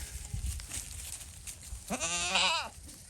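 Baby goats in a pen give a clear, loud wavering bleat near the end, after a stretch of low farmyard rustling.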